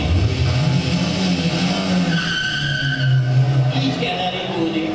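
A car pulls away from outside a disco with tires squealing in long wavering tones over a loud engine roar. A voice speaks throughout.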